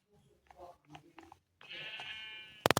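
A Minecraft sheep gives a drawn-out bleat, preceded by soft scattered sounds and followed by a few sharp clicks.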